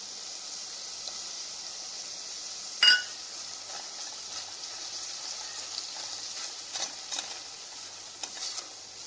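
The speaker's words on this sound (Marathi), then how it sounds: "हे कांदा खोबऱ्याचं वाटण तर हे फुटाण्याचं पीठ पण आता टाकून दिलेलं आहे आणि व्यवस्थित परतून घ्यायचं" Onion-coconut paste and gram flour sautéing in a pan for a village-style mutton rassa, a steady soft hiss of frying with scattered light stirring scrapes and one sharp utensil clink near the start.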